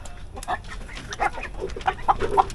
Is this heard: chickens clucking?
yes